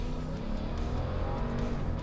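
A 2019 Toyota Land Cruiser with its V8 pulling straight uphill, a steady low engine drone and road rumble heard from inside, loud and continuous.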